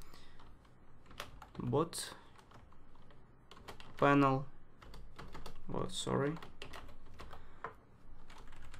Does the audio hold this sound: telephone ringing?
no